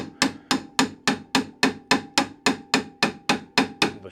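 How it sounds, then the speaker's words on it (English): Repeated sharp metallic clangs of a hammer striking metal during a Polaris Sportsman bushing replacement, about twelve evenly spaced blows in a steady rhythm, loud and close. "So you just hit this with a hammer"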